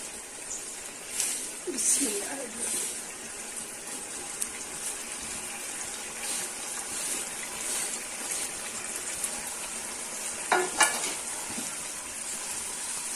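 Masala gravy for chicken Patiala sizzles and hisses steadily in a pan over high flame, with bursts of stirring clatter near the start and a louder spatter of stirring toward the end, no talking.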